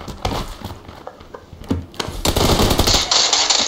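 Bursts of gunfire ring out in the PC shooter PUBG PC Lite during a free-for-all mode match: a few sharp shots early, then a rapid, loud spray of fire building toward the end, with no talking.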